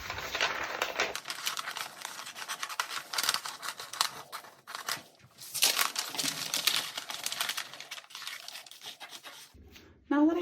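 Scissors snip repeatedly through folded paper, cutting a dart shape out of a sewing pattern piece, with crisp close cuts and paper rustling in bursts across the stretch.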